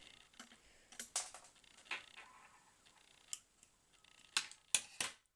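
Scissors snipping through wire while making a microphone, a few sharp close clicks and snaps scattered among soft handling noises in a quiet room.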